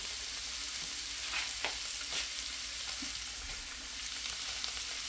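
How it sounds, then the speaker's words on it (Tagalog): Taro leaves go into a hot pan with coconut milk, shrimp and smoked mackerel, giving a steady close sizzle and frying hiss with soft stirring scrapes and a few sharp crackles. "So, ilagay na natin ang ating taro leaves."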